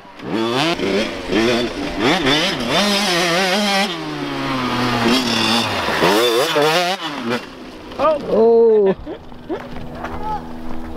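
Dirt bike motorcycle ridden by a child during race training, its engine revving up and down in sweeping pitch changes, fairly loud and close, with a voice calling out over it.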